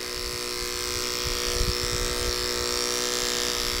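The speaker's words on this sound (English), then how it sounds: "You stick your clippers in at an angle." Electric dog clippers buzzing steadily while shaving the fur between a dog's paw pads, a close, continuous motor drone with slight dips as the blade is angled and scooped in.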